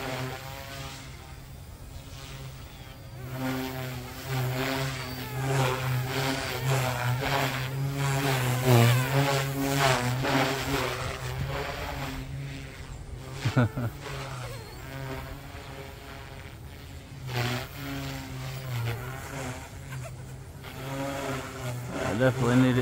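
An OMPHobby M2 EVO RC helicopter in flight, rotor and motor whining steadily at low RPM, the pitch rising and falling through maneuvers, fairly close and continuous throughout.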